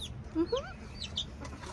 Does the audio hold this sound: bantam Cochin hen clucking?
yes